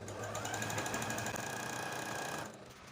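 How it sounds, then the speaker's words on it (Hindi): A Juki sewing machine running a straight stitch whirs steadily and loudly at close range with a fast, even mechanical rhythm, then stops abruptly, leaving quieter room tone. "पहले जब भी हमने मशीन को ऑन करना है तो ये सादा सिलाई पे ही काम करेगी"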